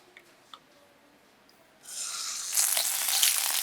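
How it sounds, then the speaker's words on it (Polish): Pork pieces land in a hot pan sprayed with vegetable oil and burst into loud, steady sizzling that swells higher after a second and keeps hissing. A few quiet clinks come first. "Smaż mięso przez 3 minuty z każdej strony."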